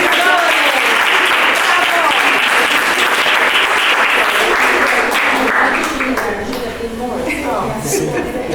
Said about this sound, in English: So, another clap of hands.